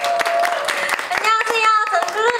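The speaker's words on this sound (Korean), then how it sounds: "다시 한번 큰 박수 부탁드립니다" Clapping from the audience at an idol fan meeting, a steady patter of hands with several people cheering and talking over it the whole time.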